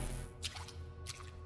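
Water drips in a tunnel as two soft, wet plops about half a second apart over a steady low background hum, faint and a little distant.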